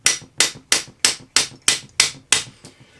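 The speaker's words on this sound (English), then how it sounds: "we'll just hammer this over a ring mandrel to open it up more" A rawhide hammer strikes a metal cuff bracelet fitted over the small end of a steel ring mandrel, eight sharp, evenly paced knocks close by, the last one softer, with no talking.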